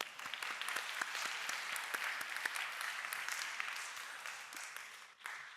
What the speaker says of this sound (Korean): 하나님께 감사와 영광의 박수 드리겠습니다.